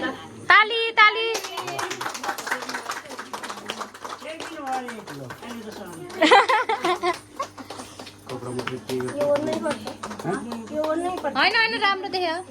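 Hands clapping at a family homecoming celebration for a retired father, scattered claps mixed with lively talk, laughter and a voice close by.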